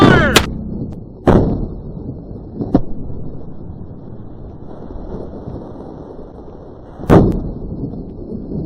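Black powder shots from an 1858 Remington and an 1860 Colt .44 revolver, fired outdoors: four sharp booming reports spaced irregularly, each with a short rumbling tail, over wind noise.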